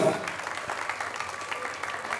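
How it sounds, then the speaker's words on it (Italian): A festival crowd at the Festa dei Gigli in Crispano applauds their godfather, a steady patter of clapping with sharper claps poking through, and faint voices underneath. "Facciamo un forte applauso al nostro padrino."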